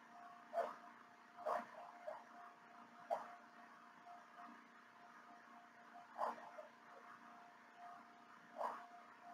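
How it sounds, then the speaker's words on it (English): A small dog barks outside, faint and distant, giving five or six sharp yips spaced a second or more apart over a low background hum. "dog outside barking"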